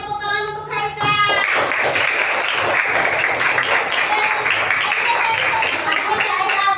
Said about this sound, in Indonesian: Ya, tepuk tangan untuk Haikal.